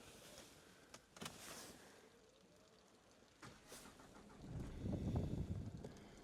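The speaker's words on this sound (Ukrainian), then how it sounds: "Зараз заведу, послухайте, як заводиться автомобіль." A 2010 Renault Megane 3 with a 1.5 dCi 81 kW diesel engine and manual gearbox gives a few faint whirs and clicks, then starts near the end with a low, rising rumble that stays fairly quiet.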